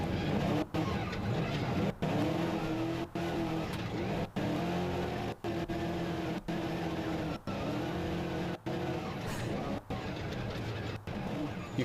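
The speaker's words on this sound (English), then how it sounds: "You can hear both engines, clearly." Twin-engine unlimited trophy truck racing in the SCORE San Felipe 250 desert race in Baja, a steady engine drone with rising and repeating tonal revs, cut by regular brief dropouts, heard at a moderate distance without speech.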